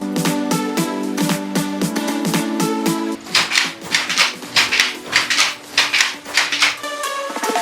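A rapid, steady clatter of wooden beats, first a tight repeated tapping, then louder rhythmic thumps and clacks of a working handloom, close by with no voices.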